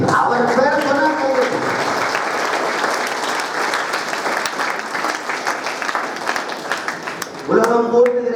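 Audience applause breaks out at a science-themed gathering, a dense steady clapping that fills the space for several seconds before fading, with a speaking voice heard briefly at the start and again at the end.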